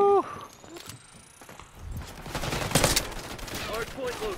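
SMG gunfire in Call of Duty: Black Ops 6, fast rattling bursts building in the second half after quieter game sounds and electronic tones, fairly loud and close.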